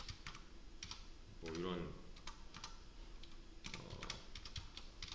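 Computer keyboard keys clack in quick irregular bursts while code is typed, a nearby voice speaking briefly over the clatter partway through.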